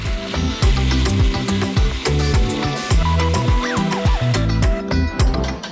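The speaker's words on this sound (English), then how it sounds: "We install the blender and grind it all up." A blender grinding beets and ground coriander in repeated pulses, its pitch rising and dropping with each surge, loud and close.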